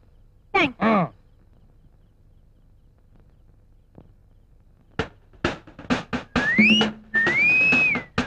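A person whistles a sliding, wavering tune in a comedy scene, after a few caw-like calls and sharp clicks, with the whistle rising and holding near the end.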